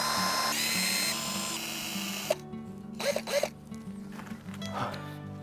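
A power drill runs in short whirring bursts against wooden garden bed boards, first one long whine then several brief pulses with faint knocks and rattles between.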